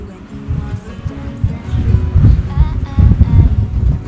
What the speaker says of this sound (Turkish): Ada bazen böyle rüzgarlı olabiliyor